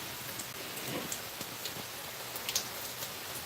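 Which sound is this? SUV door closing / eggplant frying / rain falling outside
rain falling outside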